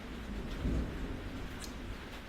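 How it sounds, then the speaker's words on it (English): Steady rain falls outdoors, a dense even hiss with a faint low rumble rising briefly partway through, heard alone. "I'll try to speak loud enough so that the rain doesn't interfere"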